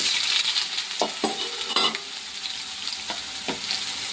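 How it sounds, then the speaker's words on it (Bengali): Soya chunks fry in a wok of very hot oil with black and white cumin seeds, giving a steady close sizzle broken by several sharp stirring scrapes, with no talk. "এখন হচ্ছে সয়াবিনটা ভেজে নেব।"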